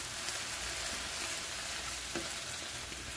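Spinach wilting and frying in a pan gives a steady, close hiss and sizzle that stays even throughout, with no talking over it.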